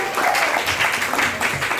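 An open mic audience gives a short burst of steady clapping, close and fairly loud, lasting under two seconds.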